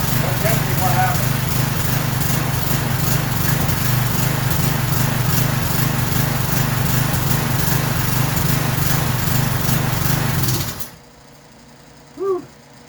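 A Craftsman lawn mower with no blade runs loudly and steadily up close after a gasoline overflow into the muffler, then is switched off and cuts to near quiet.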